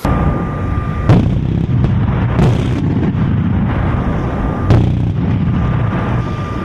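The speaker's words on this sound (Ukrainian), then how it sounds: "За одну хвилину ця бойова машина може здійснити близько п'яти тисяч пострілів." An anti-aircraft combat vehicle fires bursts of rapid shots, a dense continuous rattle of gunfire with several sharper booming reports, loud and close throughout.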